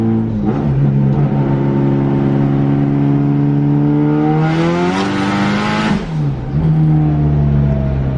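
A loud modified car engine revs steadily, its pitch climbing to a raspy high-rev peak around the middle before dropping back to a heavy rumbling idle.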